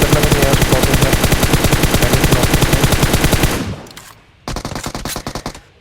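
Automatic rifle fire in the battle-royale game PUBG Mobile, a loud, rapid continuous burst lasting several seconds, then a short pause and a second burst of shots.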